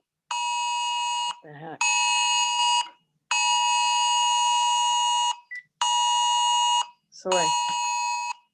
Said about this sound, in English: the phone is doing a Amber Alert